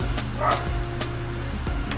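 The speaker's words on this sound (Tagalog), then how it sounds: "Ingay ng aso." A dog barks a few times at a busy ukay shoe shop, the short yelps rising over a constant background hum and murmur.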